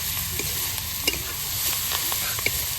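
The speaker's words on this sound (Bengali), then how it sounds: "এই দেখো শাক দিয়ে নাড়িয়ে দিচ্ছে" Leafy greens stirred in a hot pan, with a steady close sizzle of frying and several sharp scrapes of a utensil against the pan, with no talking.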